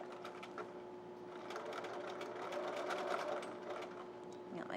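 A sewing machine stitching a handbag zipper clutch runs in a steady, quiet mechanical whir with a rapid needle rhythm, continuous and alone for a few seconds.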